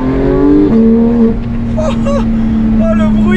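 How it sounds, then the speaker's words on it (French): A naturally aspirated Porsche 911 GT3 (991.2) engine revs up loudly and close, its pitch climbing steadily as it accelerates, with a brief shift partway through. "là on est sur un moteur atmosphérique"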